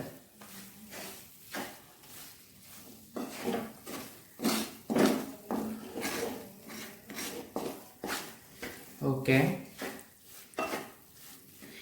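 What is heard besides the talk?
stirring cornflakes Mysore pak mixture with ghee in a pan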